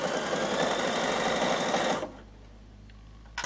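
A sewing machine runs in one continuous close burst for about two seconds while stitching a fabric microwave bowl, then stops, leaving near silence and a faint click.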